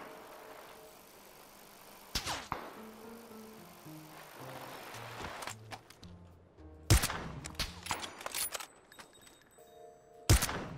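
Gunfire in the battle royale video game PUBG: a few sharp shots and short bursts ring out at intervals over quiet background game ambience and a low musical tone.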